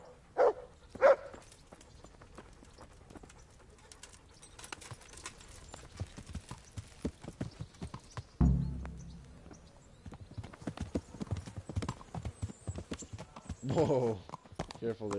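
Horse hooves clip-clop steadily in the medieval game Kingdom Come: Deliverance, a fairly close, continuous trotting rhythm with occasional louder thuds and rustle, while voices talk over it at times.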